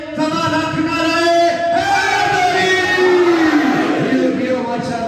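Crowd at a Muharram majlis in Lala calling out religious slogans in unison, a loud, sustained collective chant with rising and falling voices swelling together and holding for several seconds.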